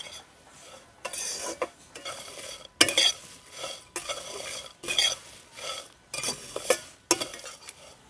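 Puffed rice and chickpeas dry-roasting in a pan for homemade baby cereal, rhythmic bursts of a spoon scraping and stirring, about seven sweeps with short pauses between, fairly quiet with no talk.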